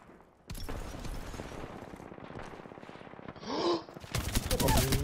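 Apex Legends gunfire as a player shoots through a wall: a dense, sustained stream of rapid automatic shots, a brief lull with a swelling effect, then a second loud volley. Voices are faint beneath it.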